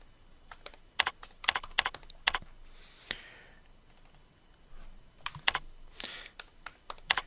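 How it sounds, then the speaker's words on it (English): Typing on a computer keyboard, irregular bursts of crisp key clicks, close and moderately loud, with short pauses between words. "as I type equipment here"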